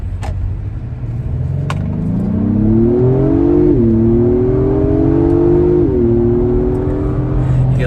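A 2022 Acura MDX Type S in Sport Plus mode accelerates hard, its engine note climbing steadily with two quick dips at the gear shifts, heard loud from inside the cabin.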